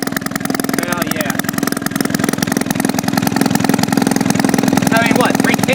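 Freshly rebuilt Maytag 72 engine idling steadily with a rapid, even putter, loud and close throughout, with people talking over it.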